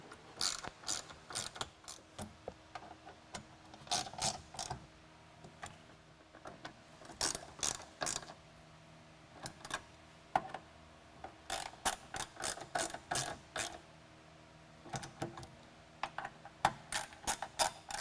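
A ratchet tightens fasteners on Ford Bronco 4-door hard top side Molle panels, with rapid clicking bursts repeated in several runs separated by short pauses, close and crisp, no talking.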